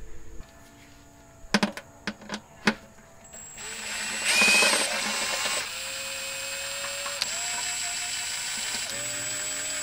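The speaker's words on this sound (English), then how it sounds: "there are four bolts and two nuts per the service manual. Nut, the rest are bolts, just to remove that little plate" A hand ratchet clicking in several quick short bursts while removing bolts from the oil pump plate of a Toyota 2UZ-FE V8, followed by a whirring power tool spinning briefly and a steady hiss in a quiet workshop.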